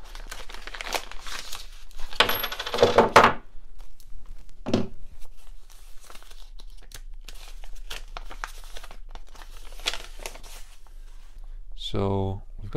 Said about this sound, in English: So I'll pull out the flange kit here, and we'll see what's inside.